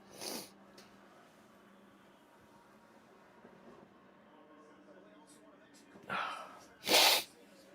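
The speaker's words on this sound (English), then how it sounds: "That sneeze, man." A loud sneeze bursts out near the end, preceded by a sharp intake of breath, against a quiet room where a football match commentary plays faintly underneath.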